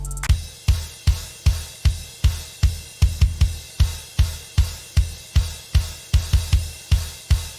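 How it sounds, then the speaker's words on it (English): A drum kit pounds out a steady pop punk pattern of kick and snare hits with crashing cymbals, loud and punchy, repeating roughly twice a second. "It's just the kick and snare and crashes hitting over and over again."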